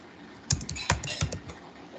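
Typing on a computer keyboard at a desk, a brief burst of several quick key clicks in an uneven rhythm, close up, with faint speech-like sound underneath.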